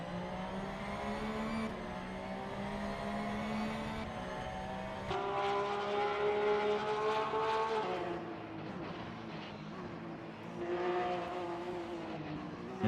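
Grid of GT race cars launching at the start of a 10-lap video game race at Suzuka, engines droning together in a steady layered roar that surges and shifts pitch as the field accelerates into the first turns.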